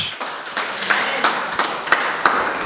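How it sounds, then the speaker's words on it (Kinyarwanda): A church congregation clapping in praise of God, with a hall full of hands beating out a steady rhythm of sharp, evenly spaced claps, moderately loud and close. "Dukomere Imana amashyi."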